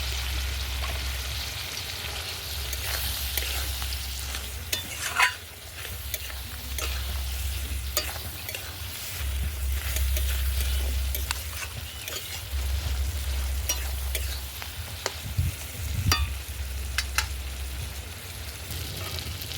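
Eggplant pieces stirred as they fry in a pan, with a continuous sizzle, a low rumble, and repeated scraping and clinking of a spoon against the pan at a close, moderate level.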